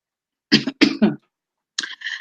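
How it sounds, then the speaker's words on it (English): A woman coughing a few times close up, a quick cluster of three harsh coughs followed after a pause by a shorter pair, in a quiet room. "I have been coughing lately"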